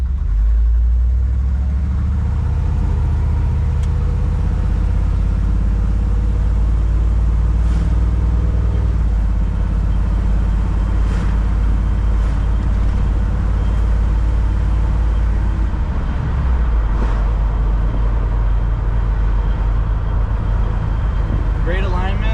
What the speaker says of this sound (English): The truck really rolls really nicely down the road too.